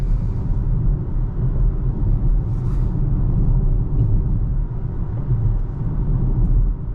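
A 2023 Volvo XC40 Recharge Twin driving at night on an unlit road outside the city, heard from inside as a steady low road and tyre rumble that holds evenly throughout with no voices.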